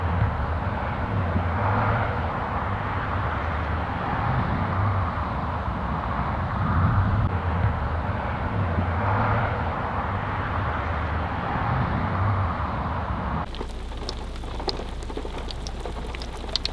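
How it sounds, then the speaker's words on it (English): A jet airliner descending toward Minneapolis–St. Paul passes overhead during a thunderstorm night, a low, continuous droning rumble blended with steady rain hiss, fairly distant and fading toward the end. "Got a plane flying right through it, a jet heading into MSP"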